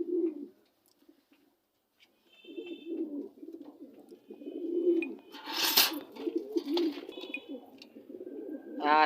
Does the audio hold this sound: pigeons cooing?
yes